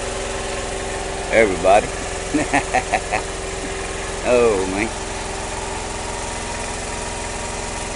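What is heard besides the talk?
auxiliary power engine running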